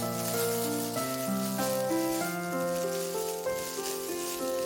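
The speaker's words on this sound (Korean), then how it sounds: "이제 미역줄기를 넣고 섞고 들기름을 넣고 골고루 볶아줍니다." Seaweed stems stir-fried in perilla oil with garlic, carrot and onion make a soft, rain-like patter of sizzling under continuous background music.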